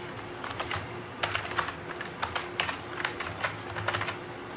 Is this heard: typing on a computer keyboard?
yes